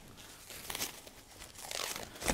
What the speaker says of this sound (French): j'ai récupéré un pâton qui a posé au frais, donc il a un tour. Donc je le déballe.